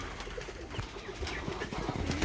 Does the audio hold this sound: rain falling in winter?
no